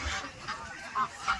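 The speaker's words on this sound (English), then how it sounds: "I'm holding a male goose." Short honks from a male goose, held in hand at a bird park, two brief nasal calls standing out over faint background noise.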